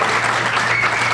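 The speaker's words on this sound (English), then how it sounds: "This is where you applaud." A cinema audience at the American Cinematheque's Los Feliz 3 applauds in a dense, steady burst of clapping throughout the short moment.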